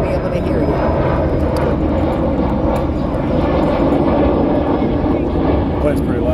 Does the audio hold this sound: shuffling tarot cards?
no